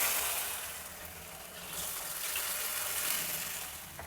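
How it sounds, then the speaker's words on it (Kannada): Water gushes and splashes steadily into jowar flour idli batter, a continuous broadband pour lasting a few seconds at a modest level. "ಈಗ ಸ್ವಲ್ಪ ನೀರು ಸೇರಿಸ್ಕೊಳ್ಳೋಣ."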